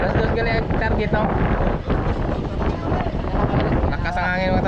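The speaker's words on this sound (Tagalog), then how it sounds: "Lakas ang hangin mga tatay." Strong wind at sea from a fishing boat, roaring and buffeting the microphone steadily with boat noise underneath and brief bits of voices.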